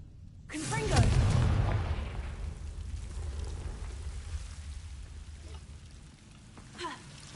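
A Confringo fire spell goes off in Hogwarts Legacy with a sudden fiery burst, then a long, crackling, rain-like whoosh that slowly fades, ending with a small flicker near the close.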